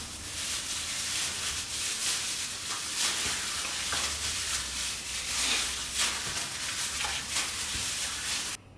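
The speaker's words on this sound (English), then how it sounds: "lastly, let's drizzle some olive oil all around. And let's give this a good mix." Chicken pieces and potatoes are tossed with olive oil for a Chinese-style stew, a continuous wet, slick stirring and squelching that runs close and steady for several seconds before stopping abruptly.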